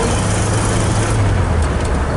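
A 1993 Jeep engine droning steadily while driving and shifting gears without the clutch, a loud, close cabin rumble with the engine note changing slightly partway through, no talk.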